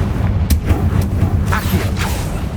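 Confringo blasting spell cast in Hogwarts Legacy, loud booming impacts with a crackling burst around the middle, layered over a rumbling low-frequency game backdrop.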